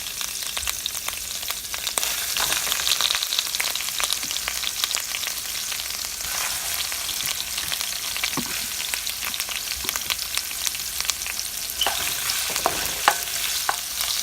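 Large-sliced green and red peppers frying in a pan for Cuban chicken ripiado: a loud, steady sizzle with occasional scrapes and taps of stirring throughout, no voices.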